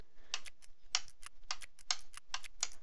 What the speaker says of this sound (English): I'm just going to click it.